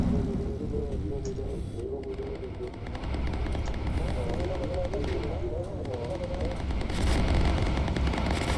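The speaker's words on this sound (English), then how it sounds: "And I gotta put up with this flak. Goodness sakes. A lot of flak." Flak anti-aircraft fire bursting around a bomber in the World War II game Bomber Crew: repeated loud booming detonations over a steady engine drone, with a brief lull before the barrage swells again.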